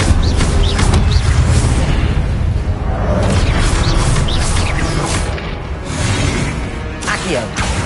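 Fiery spell bursts and booming impacts in a Harry Potter game on PS5, dense and loud throughout, with repeated whooshing blasts layered over continuous rumbling action.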